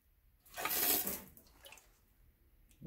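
Luxe Bidet NEO 320 spraying water after installation, a short faint burst of spray that rises and fades within about a second, followed by softer drips and splashes.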